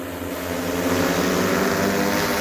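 An agricultural drone sprays a pigeon pea crop, its rotors making a loud, steady droning hum with a constant tone throughout, heard alone without voices.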